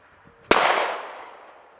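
A single sharp gunshot cracks at a shooting range, a sudden loud report followed by a decaying echo that fades over about a second.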